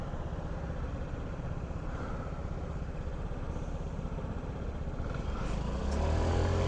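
A Honda Ruckus scooter engine runs with a steady, close buzzing drone that turns rougher and lower toward the end as it bogs down.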